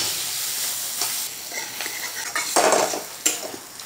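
Chopped onion tipped into a pan already holding minced garlic and ginger for cabbage and carrot manchurian, with clattering cookware, a few sharp metallic knocks and a brief burst of sizzle as it lands, alone without talk.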